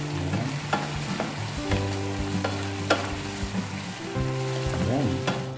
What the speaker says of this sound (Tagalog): Pwede natin ilagay mga kabayan yung ating broccoli. Ayan. Haluin lang po natin.